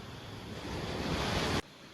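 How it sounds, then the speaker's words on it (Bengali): The Dalimkhola river in North Bengal rushes past at night in a loud, steady broadband roar that swells slightly before cutting off abruptly near the end. "ডালিমখোলা নদী, যার আওয়াজ কিন্তু খুব সাংঘাতিক পাওয়া যাচ্ছে।"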